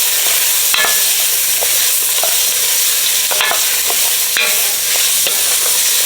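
Onions and mixed vegetables sizzle loudly in a pot roast pot, a dense, constant frying hiss with a few sharp clicks and scrapes from stirring.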